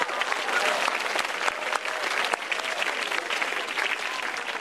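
An audience at a stand-up comedy show applauds, with sustained crowd clapping and a few sharper individual claps standing out, holding at a fairly even level throughout.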